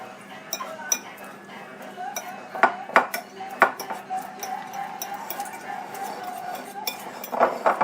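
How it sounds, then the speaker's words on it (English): A spoon stirs and mashes stuffed baked potato filling with green onions in a bowl, giving scattered clinks and scraping taps against the bowl, close and fairly quiet. "Mix all that up really well"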